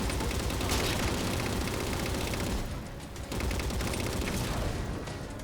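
Railgun shooting down Phantom dropships in Halo 4, set against a thick, continuous wall of battle gunfire and explosions that dips briefly midway and then returns at full strength.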